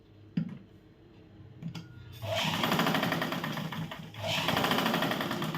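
An electric sewing machine stitches a katori blouse, starting with a couple of short bursts and clicks, then running in a fast, steady whirring chatter with a brief pause before resuming, close and loud.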